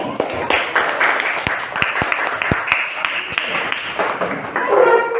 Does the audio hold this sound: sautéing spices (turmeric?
no